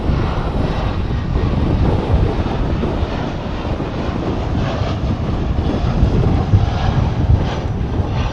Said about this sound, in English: Here's an A320. It's another American Airlines.